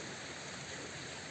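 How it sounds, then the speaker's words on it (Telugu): A small forest stream runs beside the Godavari during heavy rain, a close, even rushing wash blended with rainfall, unbroken and without speech. "చిన్న వాగు."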